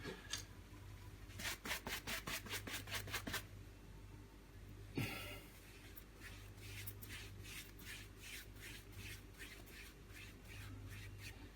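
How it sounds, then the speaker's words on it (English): An acrylic paintbrush is wiped in rapid rhythmic back-and-forth strokes, a soft scratchy rubbing that comes in bursts with pauses, quiet and close. "wiping the brush"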